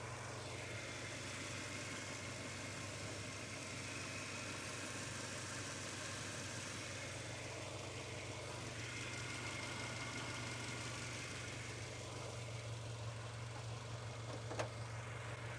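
A Subaru Impreza GC8 WRX with an EJ22 engine idles with a steady low drone and a faint rhythmic ticking underneath, heard close and evenly throughout, with no talking.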